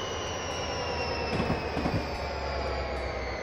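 An F40PHL-2 locomotive train running in Train Simulator 2015 on the Miami–West Palm Beach line, a loud steady rumble with rolling wheel noise and a faint high squeal throughout.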